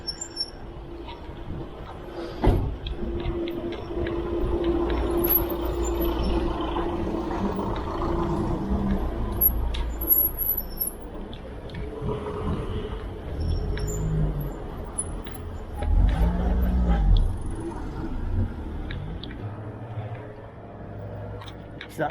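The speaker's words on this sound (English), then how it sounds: "A traffic jam in the high street of Cowes." Traffic jam in the high street of Cowes on the Isle of Wight: idling and slowly passing car and bus engines rumble nearby, with a louder vehicle swell toward the end and voices talking in the background.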